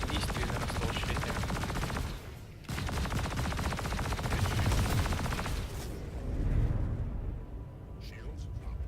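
Enemy ships firing in the space-combat game Star Citizen, dense rapid weapon fire crackling continuously with a brief gap, over a steady ship hum with some talking.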